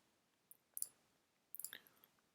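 Mouse clicks while drawing with the pen tool in Adobe Illustrator, a few light, sharp taps spaced unevenly over a quiet background, with a small cluster of clicks near the end.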